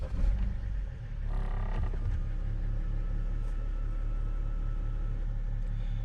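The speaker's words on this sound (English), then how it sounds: "I will start the engine" A BMW engine cranks over briefly and fires, then settles into a steady, close low rumble at idle with no one speaking.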